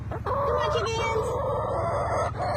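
Chickens call close by in a backyard flock, a drawn-out crowing cry with clucking around it, lasting a couple of seconds over faint background noise.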